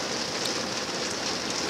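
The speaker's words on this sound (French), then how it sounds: "Attends, ça pleut, hein. Là on a la pluie tout le week-end." Rain falls steadily in a dense, even hiss of drops on surfaces, close and unbroken, with no voices.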